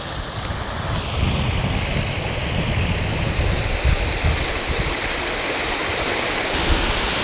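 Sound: creek water flowing over small falls

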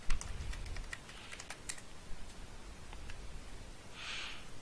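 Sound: typing on a computer keyboard

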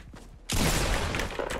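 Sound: gunfire aimed at player in Fortnite video game

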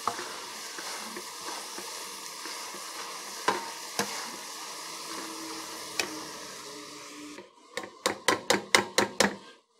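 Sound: stirring cabbage in a pot

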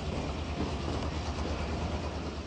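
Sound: McCloud River Railway train running

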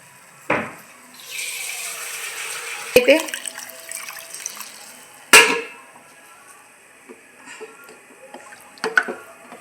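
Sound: water being poured into pot

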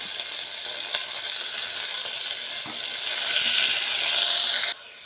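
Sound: tomatoes and mint sautéing in pan for vegetable biryani

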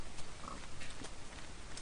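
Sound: pig oinking in the video game Minecraft

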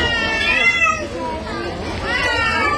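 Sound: cat meowing

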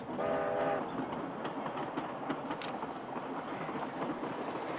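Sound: train running

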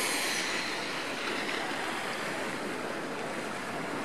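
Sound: waves splashing on rocky shore

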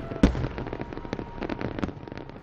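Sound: July 4th fireworks bangs in downtown Nashville

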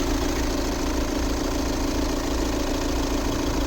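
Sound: VW Tiguan 2.0 TDI diesel engine running

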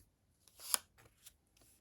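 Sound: cards being laid out on table

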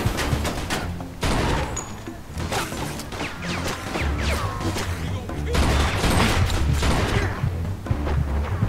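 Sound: gunfire in the video game Mafia 2

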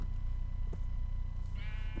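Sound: sheep bleating in the video game Minecraft

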